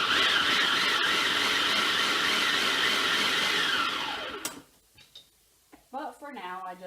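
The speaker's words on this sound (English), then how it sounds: "I don't have the best food processor. This is just a really cheap one that I got years ago." A cheap, years-old food processor whirs loudly and steadily for about four seconds, then winds down and stops, followed by a person starting to talk.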